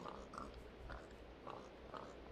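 Faint pig grunts and snorts from Minecraft, four or five short oinks repeating at a steady rhythm, quiet over low background noise.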